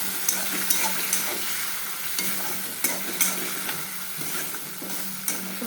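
Eggplant and fish fry in oil with nigella seeds, giving a steady sizzle broken by scraping stir strokes roughly every second, close and moderately loud with no talking.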